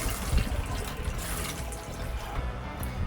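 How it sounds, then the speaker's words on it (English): An RV bathroom sink faucet runs steadily, opened during a shower faucet replacement to bleed off leftover pressure; continuous close splashing water flows without a pause, with no talking. "So I just opened up the sink faucet here to relieve some of that pressure."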